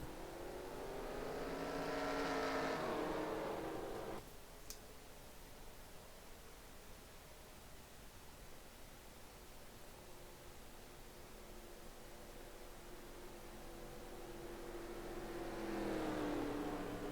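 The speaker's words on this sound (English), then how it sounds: "Drivers, start your engines!" Race car engines in the NASCAR Racing 2003 video game, a droning rev that swells and fades, drops to a steady low hum, then builds again into another loud rising roar.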